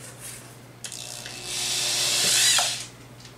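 A drill bores through plastic, starting with a click and then rising into a steady high whine that grows louder for about a second before cutting off, close by with no talking.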